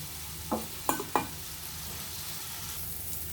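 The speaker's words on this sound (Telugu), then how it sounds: "ఎక్కువ నూనె అక్కడ లేకుండానే వేగిపోతాం" Bitter gourd frying with cumin in a little oil, a soft steady sizzle broken by three sharp scraping clinks of a spatula against the pan in the first second or so.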